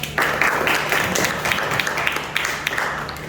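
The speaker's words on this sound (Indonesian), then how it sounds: "Tepuk tangan buat kelompok C" Students in a classroom guidance session clap for a group, a steady patter of many hands at moderate volume with no speech over it.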